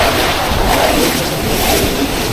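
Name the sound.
strong ocean waves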